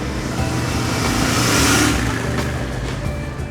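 A Royal Enfield GT motorcycle's new engine revs steadily on a ride, a loud continuous roar that swells slightly in the middle, heard alone without talk.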